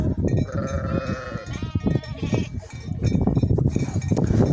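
Several sheep bleat close by, overlapping calls rising and falling against a busy outdoor background, with a faint metallic clink now and then.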